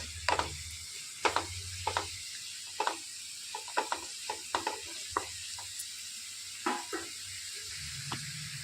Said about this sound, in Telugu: దాని మూలన ఉల్లిపాయలు అనేవి తొందరగా ఫ్రై అయిపోతాయి